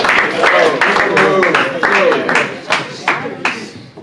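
An audience at a youth retreat claps and applauds steadily, mixed with voices talking and cheering, the clapping thinning toward the end.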